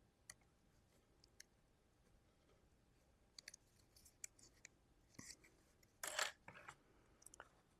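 Scissors trimming paper flaps on a handmade ghost house craft, a few quiet sparse snips and clicks with a brief louder cutting burst near the end, in an otherwise hushed room.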